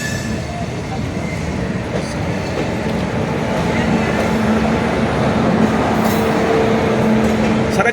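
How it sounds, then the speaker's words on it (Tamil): A passenger train rolls into Dindigul railway station, a loud close rumble of wheels and carriages with steady low roar and faint squeals, continuous throughout with a voice briefly heard over it. "இப்போ நாம் திண்டுக்கல் ரயில் நிலையத்துக்குள் நுழைந்து விட்டோம்"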